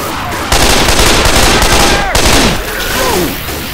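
Loud, close rapid gunfire from the video game Left 4 Dead 2, sustained bursts of automatic shots with brief pauses, mixed with game sound effects.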